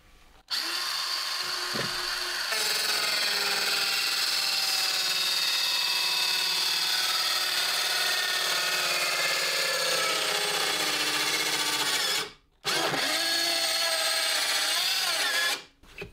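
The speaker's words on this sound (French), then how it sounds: "petit test en découpe oblique" A Parkside PHKSA 12 B3 cordless circular saw makes a bevel cut through a worn wood plank: a loud, continuous high whine under load that cuts out briefly, then starts again before stopping.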